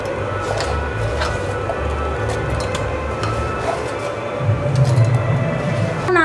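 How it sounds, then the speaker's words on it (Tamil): Small apple cubes grinding into paste in a mixer grinder jar for apple halwa: a steady, loud motor whir and churn runs throughout, growing slightly heavier toward the end. "சின்ன சின்ன கியூப்ஸாக கட் பண்ணி மிக்சி ஜாரில் போட்டு அரைச்சி எடுக்க போகிறேன்"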